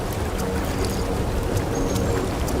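Ocean ambience from the video game Crash Twinsanity, with no waves breaking; a steady, broadband watery wash and low rumble, constant and even in level, with faint higher tones drifting over it.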